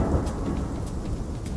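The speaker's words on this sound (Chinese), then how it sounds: "啊，下雨了" Steady, dense rain hiss with a low rumble of thunder beneath it, continuous and fairly loud for a brief stretch.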